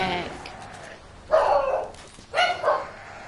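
Pet dogs bark indoors in two short bursts of yapping, set apart by a pause, at moderate distance behind faint background sound from a game, with no talk.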